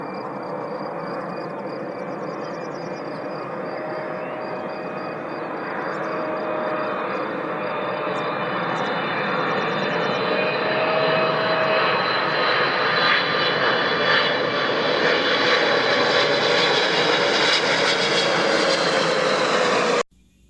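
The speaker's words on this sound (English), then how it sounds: "I've booked us the very next flight to Liechtenstein. So let's hit that plane." Fixed-wing airplane engine in flight, a loud steady roar with a faint rising whine that holds for about twenty seconds and then cuts off abruptly.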